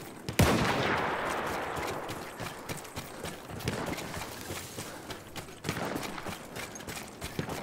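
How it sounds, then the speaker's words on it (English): Rapid machine gun fire in the World War I shooter game Battlefield 1, dense rattling bursts repeating over several seconds, close and loud with battlefield din in between. "I've got this ridiculous machine gun right now"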